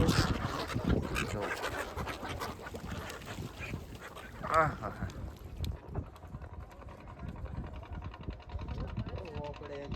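A few duck quacks come through amid people talking and the hum of a boat on water.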